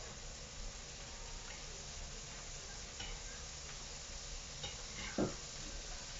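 Eggs with shallots sizzle in a pan on a farm breakfast stove, a low, steady frying hiss with faint scraping stirs and one brief louder scrape near the end.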